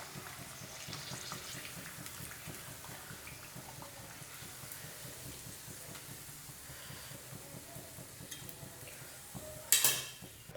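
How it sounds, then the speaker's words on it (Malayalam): Chilli bajji, battered green chillies, frying in hot oil: a steady, fairly quiet broadband hiss and sizzle that continues throughout, with a brief louder clatter just before the end. "ഇതുപോലെ തന്നെ നമുക്ക് എല്ലാ മുളകും ഫ്രൈ ചെയ്തെടുക്കാം കേട്ടോ"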